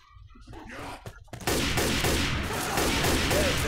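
Rapid gunfire from the Left 4 Dead 2 video game, with a dense burst of shots erupting loud and continuous after a quieter start of scattered sounds.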